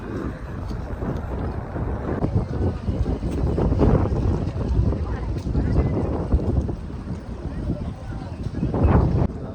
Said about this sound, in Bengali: সমুদ্রের পানিগুলো এসে পাথরে বাড়ি দিচ্ছে না একটা শব্দ হচ্ছে